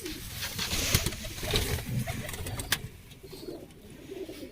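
Domestic pigeons cooing and fluttering softly while being handled by their keeper, low murmuring coos mixed with light rustling and a few sharp clicks, close and moderately quiet throughout.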